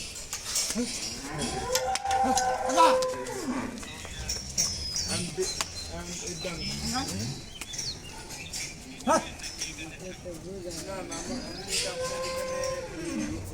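Cattle at a cattle market ahead of the Eid sacrifice moo in several long, drawn-out calls, some close and loud, with people talking nearby and faint bird chirps in the background.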